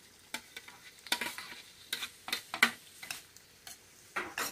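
Ham and sausages sizzle with softened onion in a pan while being stirred, quiet frying hiss broken by irregular scraping clicks of a utensil, no voices.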